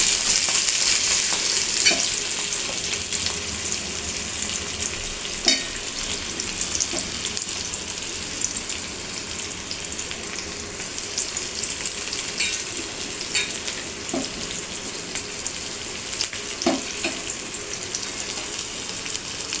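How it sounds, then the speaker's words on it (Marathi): Green chilies and onion fry in a pan, browning with a continuous close sizzle, while a utensil scrapes and clinks at intervals as they are stirred, with no talking. "कांदा चांगला ब्राऊन ब्राऊन परतून घेते"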